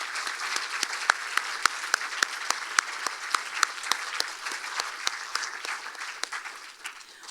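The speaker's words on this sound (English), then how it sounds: "give them all another big round of applause" Audience at a fall festival pageant applauds the contestants, a dense steady round of clapping with a few sharp louder claps standing out, fading slightly at the end.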